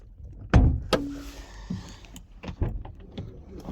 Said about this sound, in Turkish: Şimdi kaputu ben bir açayım.